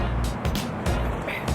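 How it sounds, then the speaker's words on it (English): A busy city street in Singapore with a steady rumble of passing cars and traffic, a continuous wash of road noise and brief swells as vehicles go by. "and this is the sound of the city."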